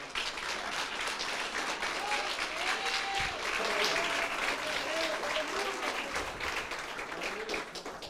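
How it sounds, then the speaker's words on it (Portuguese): A church congregation claps together in sustained, dense applause that fills the space evenly from start to finish, with some voices and cheers rising faintly within the crowd. "Quem pode glorificar o Senhor com as palmas?"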